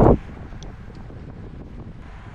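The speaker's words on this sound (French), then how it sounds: "Là le vent soufflait à 40-50 km/h je pense" A strong headwind of around 40 to 50 km/h blows across the microphone at a cycling race, a low buffeting rumble after a brief loud gust at the start.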